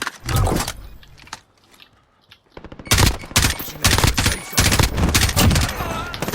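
Repeated shotgun blasts in a Call of Duty Warzone match, with several loud close bursts at the start and a dense run of rapid shots later, after a brief near-silent gap.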